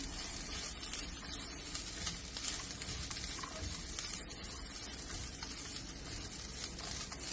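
Coconut, chickpeas, poppy seeds and cumin roast in a pan with a steady faint sizzle and light scraping, continuous throughout.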